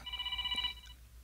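A cellphone rings with a bright electronic tone pattern, steady for about a second then cutting off, close and clear with no talking.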